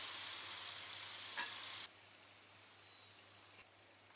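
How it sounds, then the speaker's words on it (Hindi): Crispy okra (bhindi) frying in hot oil gives a steady, bright sizzle that drops in level partway through, with a couple of brief clicks and no voices. "आ सब भेंडी के भी एई प्रकार फ्राई कर नेबे।"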